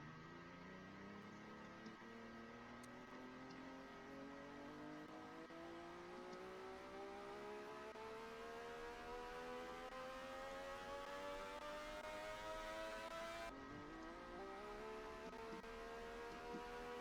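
A car's base engine sound in the Roblox game Mad City drones steadily while the pitch climbs smoothly as it accelerates, dips briefly near the end, then rises again; continuous and fairly quiet, with no talking.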